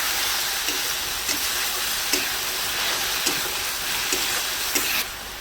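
Ginger garlic paste frying in an oil-filled pan for a village-style egg curry, a steady loud sizzle running throughout with regular faint scraping clicks of stirring about every half second.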